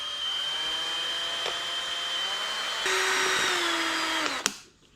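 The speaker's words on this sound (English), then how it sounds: "So take a drill and just drill the hole on the top right here on the cap." An electric drill bores a hole through a plastic bottle cap, a steady whining motor that shifts pitch as the bit bites into the plastic, then winds down and stops near the end.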